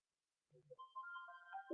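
An incoming phone call rings with a bright electronic melodic ringtone, sustained and steady, preceded by a brief low murmur.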